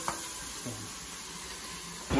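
Onions cooking for spaghetti sauce sizzle steadily in a pan over medium-low heat, a soft continuous frying hiss with a few faint stirring clatters near the start and end.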